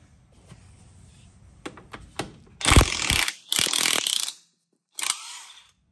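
Ratchet clicks and metallic clatter of tools pulling the brake caliper off a 2007 Toyota 4Runner during a rear axle seal job, starting as faint ticks and rising to a few loud, close bursts of rattling and scraping.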